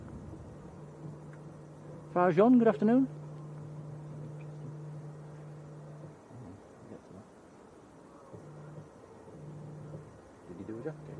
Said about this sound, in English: The ops car's out on the runway making quacking noises, trying to scare the birds away.